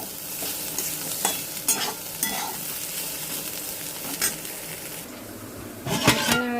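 Sliced bitter gourd and potato fry in a hot pan, a steady sizzle broken by repeated scraping stirs of a spatula and a sharper clatter of utensils near the end.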